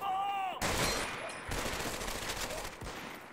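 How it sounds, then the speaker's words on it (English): Dense gunfire rattles through a battle in Medal of Honor: Vanguard, continuous overlapping rifle and machine-gun bursts with sharp individual shots, loud and near, with a brief tonal game sound at the start. "Who are these guys shooting at?"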